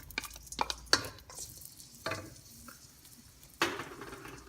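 Onions frying in vegetable oil in a pan, with a few sharp stirring scrapes and clinks over a faint sizzle, close by.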